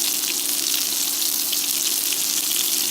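Thick chicken nuggets frying in a pot of hot oil, a steady, dense sizzle and bubbling that carries on evenly and fairly loud with no talking.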